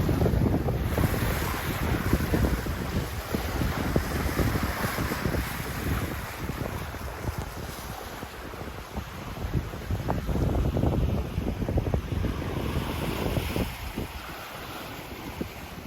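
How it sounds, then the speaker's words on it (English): Steady wind buffets the microphone aboard a Hallberg Rassy 44 sailboat under way off Ellös, Sweden, with the continuous wash and rush of waves along the hull beneath it and no voices. "The wind is perfect today, isn't it?"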